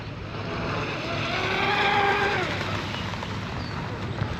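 A J&R Marine H26 RC hydroplane runs on the water, its engine a steady buzzing whine that rises and falls in pitch as it passes at middle distance, without speech.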